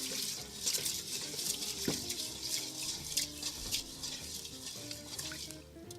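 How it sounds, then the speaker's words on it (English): Rice is washed in water over a campfire, with close sloshing, swirling and trickling throughout and a few grains and light clinks stirring in the pot, with no talk. "So we're going to just wash our rice."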